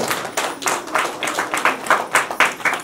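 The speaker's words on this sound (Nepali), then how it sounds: "ताली बजाउँ।" Wedding guests at a Nepali Christian ceremony clap in a steady burst of scattered handclaps, fairly close and continuous for a few seconds, with faint voices mixed underneath.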